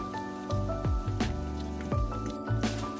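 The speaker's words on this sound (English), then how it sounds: "I hear the Spam a-poppin'. It's popping in the pan." Spam frying in a pan over rising heat, giving off a few soft wet pops and sizzles at irregular intervals over a steady hum, with no talk.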